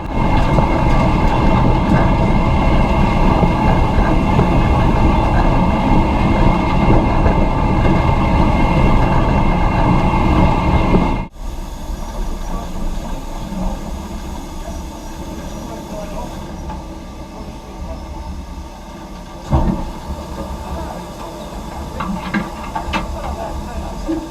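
A BR Class 9F steam locomotive rolls downhill with the regulator off, a loud, steady rumble and hiss from the footplate that drops to a quieter clatter of wheels partway through, with a voice talking over it.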